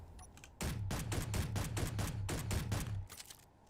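A rapid-fire gun with a red dot sight and reduced recoil fires in Space Engineers, a fast, evenly spaced string of about a dozen sharp shots, loud and close, then stopping abruptly.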